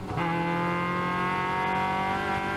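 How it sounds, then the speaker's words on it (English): A loud, steady Formula Ford race car engine with engine trouble drones close by with a rough, uneven tone throughout, never easing off. "And now Larry Bangett's Formula Ford gets engine trouble. You can actually hear it"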